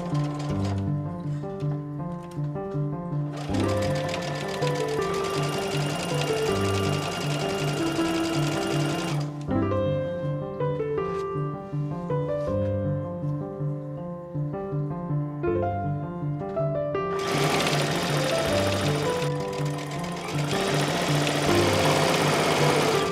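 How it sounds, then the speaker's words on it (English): A sewing machine stitches the waistband of a circle skirt, running loud and steady in long bursts with brief pauses between runs, its motor hum and rapid needle chatter alone with no talk. "let's go sew it together"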